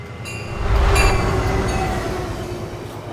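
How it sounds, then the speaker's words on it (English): A train approaches in Minecraft, a loud rumbling rail roar with a squealing wheel tone that swells within the first second and then holds steady and close. "it has something to do with that train that's approaching"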